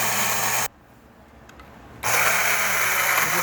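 An electric dry grinder grinds coffee beans with a loud, steady whirring roar, then cuts out for about a second and a half before roaring back on at the same level.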